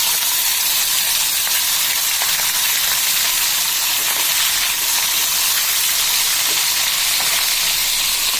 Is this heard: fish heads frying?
yes